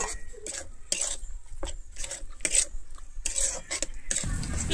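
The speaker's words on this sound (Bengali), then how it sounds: "আমি এরপরে উপর থেকে একটু কস্তুরি মেথি দিয়ে দিচ্ছি। দিয়ে আমি খুব ভালোভাবে আবারও মিশিয়ে নেব।" Cauliflower roast masala with kasuri methi stirred in a pan: repeated metal spatula scrapes and clinks against the pan in an irregular rhythm, close and clear, over a faint sizzle, with no voices.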